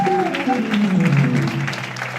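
Applause from a Christian Union congregation during worship, continuous clapping from many people with voices singing or calling out over it throughout.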